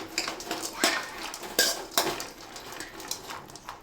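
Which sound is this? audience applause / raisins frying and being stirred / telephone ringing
raisins frying and being stirred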